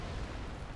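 An explosion in the video game Dark Souls, a short, muffled, rumbling burst of low broadband noise at modest loudness, with no talk over it.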